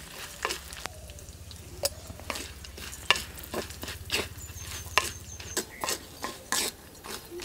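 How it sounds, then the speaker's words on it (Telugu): Curry leaves, tamarind, ginger, cumin and roasted gram fry in a pan for a chutney, with a steady low sizzle under repeated sharp scraping and stirring clicks, close and moderately loud, with no talking. "ఇది 1-2-3 నిమిషాల పాటు వేయించుకొని రుచికి సరిపడా ఉప్పు కూడా వేసుకొని కలుపుకుందాం"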